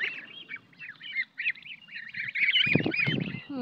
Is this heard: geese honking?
yes